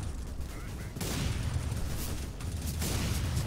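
Rapid bursts of gunfire in a CS:GO competitive matchmaking game, loud and near, rattling on almost without pause through the whole stretch.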